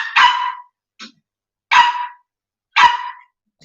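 A dog barks three times in loud, sharp bursts about a second apart, with a faint short yip between the first two, close by in an otherwise quiet room.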